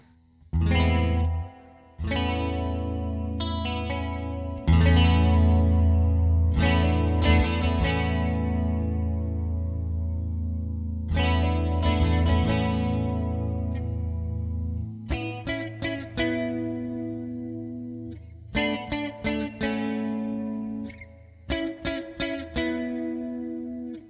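Electric guitar chords and picked notes through a Supro flanger pedal with the sweep turned fully up, a swirling, whooshing sweep, loud and continuous, strummed chords giving way to rhythmic repeated stabs.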